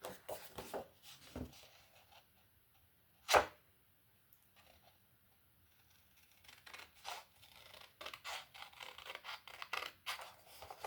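Scissors cutting paper for a scrapbook gift basket, a series of soft close snips and scratchy rubs, with one louder sharp snip and a quicker run of cuts toward the end, no talking.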